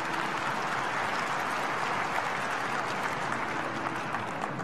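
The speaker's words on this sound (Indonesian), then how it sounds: "Berikan tepuk tangan buat Tuhan kita." Congregation applause at a church healing service, a broad, fairly quiet wash of many hands clapping steadily from across the hall for several seconds, with a faint sustained tone beneath.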